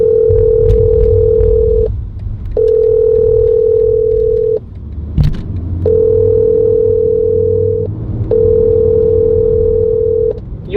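Telephone ringing tone on an outgoing call to a client: a steady electronic tone sounds in about four long bursts separated by short gaps, loud and close, over a faint low background hum.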